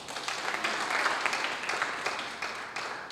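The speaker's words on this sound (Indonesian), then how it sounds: "Tepuk tangan bagi Yesus." Church congregation claps steadily through the whole stretch during a Sunday worship service, a dense, sustained wash of hands filling the room at moderate loudness with no voices over it.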